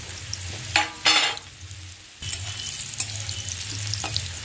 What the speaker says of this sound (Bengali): এবারে এঁচোড়ের আলুটা ভেজে নেব।